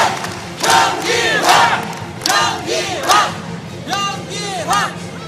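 Delegates at a Busan party convention cheer loudly after a speech, their rhythmic chanting shouts rising and falling in waves across the hall.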